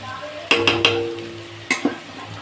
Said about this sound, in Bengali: এই যে পেঁপে ছিটকেটা বসিয়ে দিয়েছি